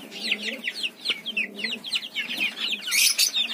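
Fancy hens cluck close by in an open cage, a busy run of short rising and falling calls, with a few louder squawks near the end.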